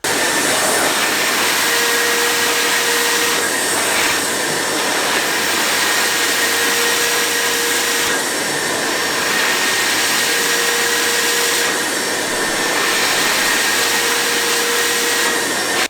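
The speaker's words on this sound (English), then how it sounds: "demonstrate how the vacuum turns itself off when this tank gets full" An Evolution R15VAC wet and dry shop vacuum runs steadily, giving a loud, continuous high-pitched motor roar and airflow rush with slight fluctuations, heard alone without talk.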